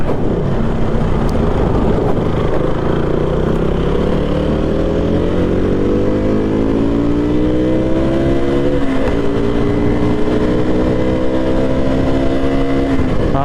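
A refuelled vehicle drives on the road, its engine droning loud and close with rising and falling pitch as it shifts and accelerates, and road and wind noise run steadily underneath.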